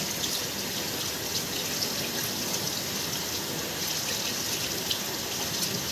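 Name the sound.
water running while rinsing hair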